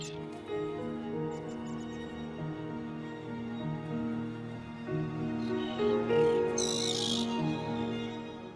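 Birds call in a natural river-valley wilderness setting, with steady overlapping tonal notes and a brighter burst of chirping near the end, moderately close and without talk.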